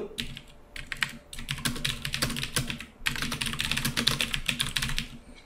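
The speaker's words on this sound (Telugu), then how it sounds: "నేను కొంత మ్యాటర్ టైప్ చేశాను కదా" Steady typing on a computer keyboard, close and clear, with dense bursts of key clicks broken by two short pauses.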